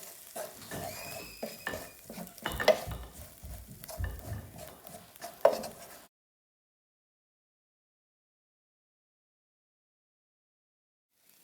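Spoon stirring spices into an onion, garlic and ginger mix in a pan, with scraping, light clinks and a faint sizzle for about six seconds before silence.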